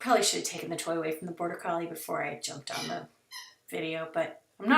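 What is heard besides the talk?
No everyday noises stand out.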